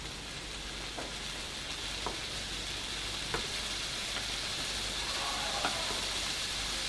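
Chicken and vegetables frying in a pan for satay chicken, giving a steady soft sizzle with a few faint clicks and taps, fairly quiet, with no talking.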